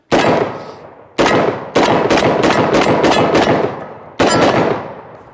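A Kalashnikov USA KS-12 semi-automatic shotgun fires a magazine outdoors: loud, close blasts, a few single shots with pauses, then a quick run of rapid shots and one final blast, no talking.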